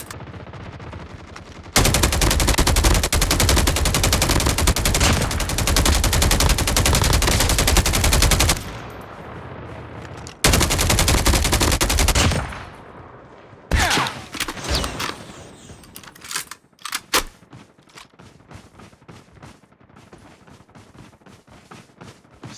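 Sustained loud automatic gunfire from Call of Duty Mobile played on a Vivo X90 phone, long continuous bursts of rapid shots, then scattered single shots and short bursts fading quieter.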